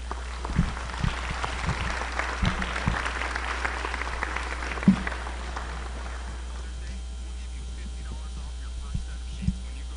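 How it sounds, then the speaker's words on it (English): Applause at a high school academic awards ceremony for award recipients, a moderate, sustained crowd clapping over a steady mains hum, with scattered louder claps and thumps; the clapping thins out toward the end. "Let's give these people a round of applause"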